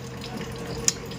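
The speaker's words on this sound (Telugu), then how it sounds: "నీళ్ళు పోతున్నాయే." Water runs from a tap in a steady, soft stream, close and fairly quiet, with one brief sharp splash or clink near the end.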